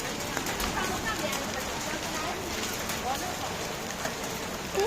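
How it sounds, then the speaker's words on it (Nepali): Hail falling outdoors, a steady dense patter and hiss of pellets striking surfaces throughout, with a voice talking over it. "बाटै सेतै असिनाले झर्ने होला।"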